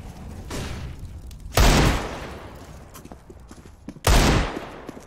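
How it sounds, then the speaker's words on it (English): Flashbang grenades in Counter-Strike on the Overpass map, two loud sudden bursts a few seconds apart over quieter game ambience, each with a short ringing tail. "I'm throwing a flashbang."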